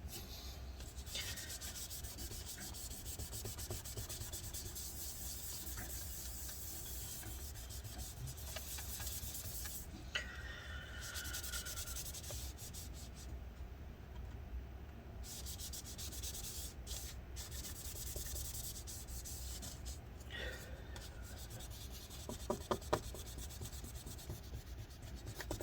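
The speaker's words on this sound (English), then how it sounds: "we're gonna flip it over to a clean side, get some more rubbing alcohol in there, and continue wiping this stuff off." Soft, steady rubbing as a cloth wipes the inside of an Early 2015 13-inch MacBook Pro A1502 with rubbing alcohol, a quiet continuous scrubbing with brief pauses and no talking.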